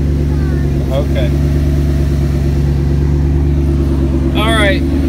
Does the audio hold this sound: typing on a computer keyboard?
no